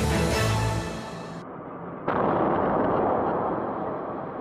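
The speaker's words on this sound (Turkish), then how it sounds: "Japonya'da bir apartman dairesinde yaşandı bu patlama." After a loud tonal burst dies down, a sudden gas explosion in an apartment in Japan erupts and rolls into a long, heavy roar of rumbling noise that slowly fades.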